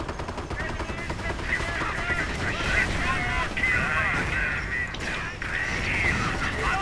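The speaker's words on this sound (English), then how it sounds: "The manor is taking fire." Gunfire rattles through a Company of Heroes battle as a manor comes under attack, dense continuous bursts of automatic fire and game effects at moderate loudness throughout.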